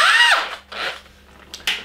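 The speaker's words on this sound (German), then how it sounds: "Mit dem Bohrer bohre ich jetzt das alte Gewinde aus." A hand-held drill bores out an old, damaged tripod thread freehand: a whining spin-up at the start, then short, uneven bursts of drilling, close by.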